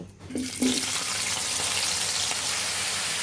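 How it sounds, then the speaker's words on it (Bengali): Taro pieces go into hot oil left over from frying fish, with a brief clatter and splash, then a steady bright sizzle that continues alone until the end. "আমরা যে মাছ বেজেছি সেই তেলের মাঝে আমরা ঘাটি কচুগুলো দিয়ে দিব"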